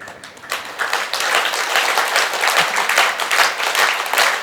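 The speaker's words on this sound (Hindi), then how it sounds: "सबसे पहले ताली योगा प्रारंभ करते हैं।" A group of people clap their hands steadily together during a clapping yoga session, a dense, continuous patter of many palms that keeps a fairly even loudness throughout.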